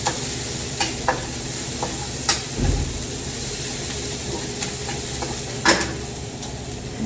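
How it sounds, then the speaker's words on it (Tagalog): Onion and garlic sautéing in a hot pan, with a faint steady sizzle under light stirring and a few scattered clinks and taps, no talk. "pag mainit na, yung sibuyas bawang natin. Ilagay natin doon."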